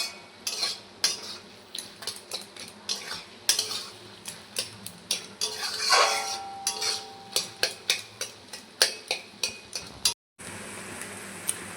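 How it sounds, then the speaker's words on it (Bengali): Metal ladle scraping and clinking against a pan while stirring and mashing boiled taro flowers as they fry, a steady run of sharp close knocks and scrapes over a low sizzle, with a brief pause near the end. "হাতা দিয়ে ভালোভাবে এইভাবে গালিয়ে নেব।"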